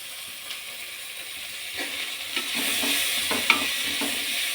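Tomato paste with chili powder sautéing in a pan, a soft sizzle that grows louder and steadier partway through, with a few light scrapes and one sharp tap.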